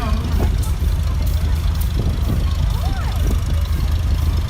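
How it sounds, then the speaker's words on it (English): A 1953 Farmall Super M tractor rolls past in a summer festival parade, its engine a steady low rumble close by, while voices talk over it throughout. "Bob Gomel is coming along with the 53 Super M"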